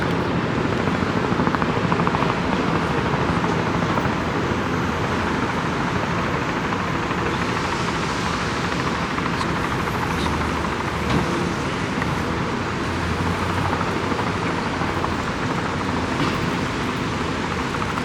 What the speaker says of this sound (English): you have choppers taking off from the left